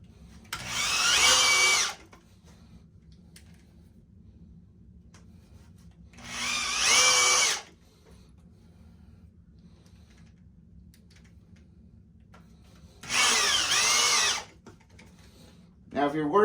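Three separate bursts from a power drill driving screws into 2x4 boards for a target stand, each lasting about a second or two with whirring and a rising pitch, separated by quiet pauses with faint background noise.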